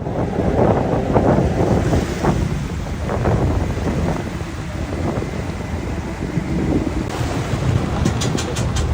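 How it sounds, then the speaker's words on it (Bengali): Strong wind and choppy waves on the Pasur river, heard as loud, continuous wind buffeting the microphone over rolling water noise, without any talk. "পশুরে এসে দেখি এখানেও তুমুল বাতাস ঢেউ স্রোত"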